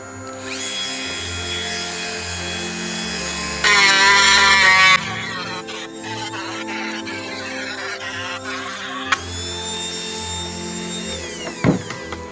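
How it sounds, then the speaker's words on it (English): A high-pitched Dremel rotary tool whines steadily, grinding in bursts with brief pauses and pitch shifts as it trims a hard resin edge, close and loud. "I'm going to use the Dremel to sort of tidy up this inner edge"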